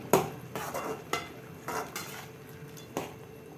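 Ground masala paste being stirred into Chettinad chicken gravy in a pan: a handful of close, spaced scraping clinks of a spoon against the metal pan, with soft wet mixing between strokes and no talking.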